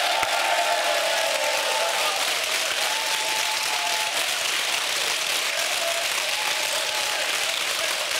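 A studio audience claps for several seconds in dense, even applause on a French radio show, loud and continuous, with a voice speaking faintly beneath it.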